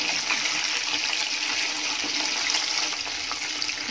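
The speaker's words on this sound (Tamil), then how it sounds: "இப்ப நம்ம சிக்கன் இதுல போட்டுக்கலாம். நல்ல எண்ணெய் காஞ்சிருச்சு." Chicken kebab pieces fry in hot oil, giving a steady, loud hiss and crackle of bubbling fat that carries on unbroken throughout with no voices over it.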